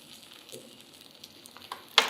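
Okra pieces cooking in oil in a home kitchen give off a faint, steady sizzle with soft patter, ending in a sharp, brighter clatter or splash near the close.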